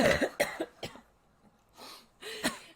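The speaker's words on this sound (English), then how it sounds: "I can't get rid of this stupid cough" A bout of harsh, repeated coughing from one person, several quick close coughs, then a short pause and a couple of rougher coughs and throat clears.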